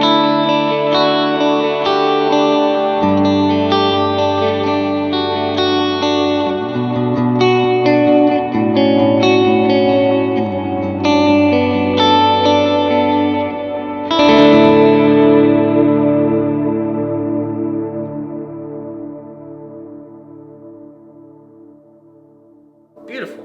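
Electric guitar run through three stacked effects units for a worship tone: sustained, shimmering chords with chorus, echo and reverb, played alone and loud, with a strum near the middle ringing out and fading into a long wash.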